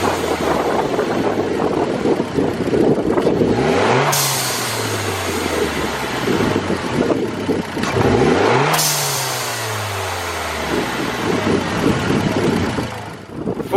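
Mitsubishi Evo engine held at full throttle around 3,500 RPM, loud and close, with two sharp whooshing vents from a GFB Respons blow-off valve, each followed by a falling engine note before the revs build again.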